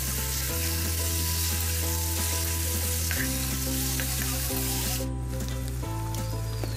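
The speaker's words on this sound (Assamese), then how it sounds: "চিকেনখিনি অলপ সময় ভাজি ল'ম যাতে তাৰ পৰা তেলখিনি ওলাই আহে" Chicken pieces fry in hot oil with a cumin-coriander spice mix, giving a loud, steady, close sizzle that runs unbroken throughout over a faint tonal hum.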